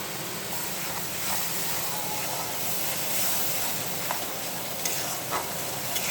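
A paste of ginger, onion, garlic, green chilli and tomato with salt, turmeric and a little mustard paste frying in a pan, a steady close sizzle with faint stirring scrapes throughout and no talk.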